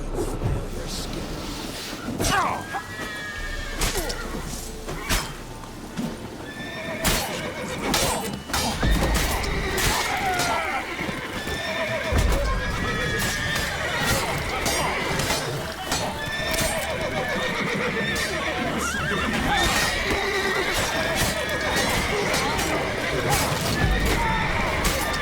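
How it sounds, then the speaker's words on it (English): Horses whinny and neigh repeatedly amid clattering hooves, with crashes and voices mixed in a busy, loud scene in the video game The Witcher 3: Wild Hunt. "The horses are freaking out."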